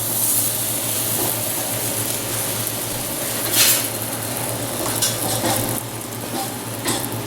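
An olive-oiled flatbread laid oil side down on a hot steel pan sends up a steady, close sizzle, with a few brief scrapes and clinks from the pan and no talking.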